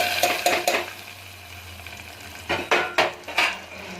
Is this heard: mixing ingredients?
yes